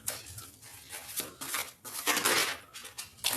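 A deck of tarot cards being cut and shuffled, with soft papery riffles and flicks arriving in short irregular bursts, close and fairly quiet, no talking over them.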